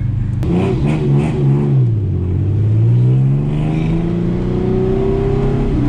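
TVR Sagaris sports car engine revving up and down in a long, loud, rising and falling drone, heard from inside the roll-caged cabin.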